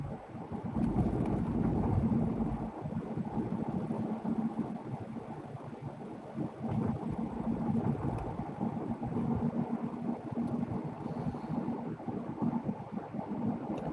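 A car driving at dusk gives a steady, loud low rumble of road and engine noise with wind buffeting the microphone, continuous throughout with no talking.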